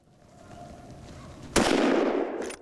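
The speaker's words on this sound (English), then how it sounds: "Outstanding shooting." A hunter fires at a wild boar from a driven group during a hunt in Hungary: one sharp, loud shot cracks out after a quiet outdoor stretch, then a decaying echo trails off.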